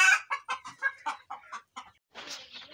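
Egyptian Fayoumi laying hens on a poultry farm cluck in a quick series of short, close, clear calls, with a burst of rougher squawking at the end.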